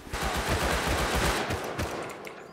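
Rapid gunshots in the survival game Rust, a dense burst of automatic fire hammering close and loud for about two seconds before tapering off, with no talking.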